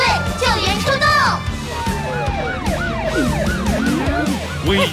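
Several emergency vehicle sirens wail and warble over one another in a children's 3D cartoon song about a rescue team of police car, ambulance, fire engine and helicopter, with lively voices and music beneath.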